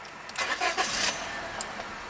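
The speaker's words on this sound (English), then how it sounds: "So now let's just run the car." Honda Civic engine cranking and catching, then settling into a quiet steady idle, brief and close, with no talking.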